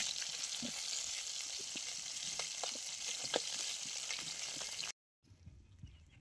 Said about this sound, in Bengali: এবারে আমি সব কটা মাছ ভেজে নেব।